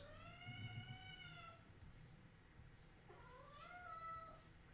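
A house cat meows twice, a long drawn-out call followed by a shorter rising meow, faint and close indoors with low background hum and no speech.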